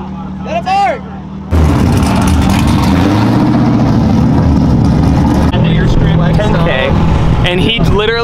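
A Nissan 350Z drift car's engine roars into a loud, sustained rev lasting several seconds, its pitch rising, with voices talking just before it starts and again as it eases off.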